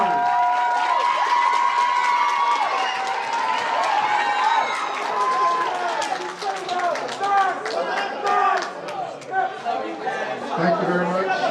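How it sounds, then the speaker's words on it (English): Audience applause at an awards ceremony, steady clapping from a crowd mixed with chatter and cheering, continuous and fairly loud throughout. "a big round of applause for our Athenium speaker winners"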